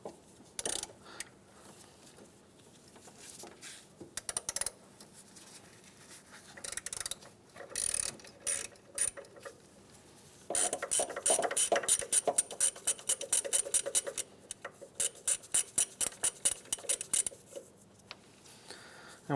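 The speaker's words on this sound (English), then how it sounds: "Now in the center of this circular part here is going to be your last 12 millimeter bolt. So we'll remove that now." Ratchet clicking as it backs out a 12 mm bolt at the center of the belt tensioner on a 2003-2011 Honda Element, in bursts of rapid clicks with pauses between, fairly close and moderately loud.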